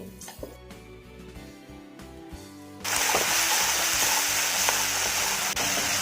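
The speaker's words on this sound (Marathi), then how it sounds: "वाटण देखील आपल्याला तेलामध्ये छान भाजून घ्यायचं आहे" Ground masala paste for dhaba-style egg curry dropping into hot oil with onions, a quiet stir at first, then a sudden loud, steady sizzle that continues with light stirring scrapes.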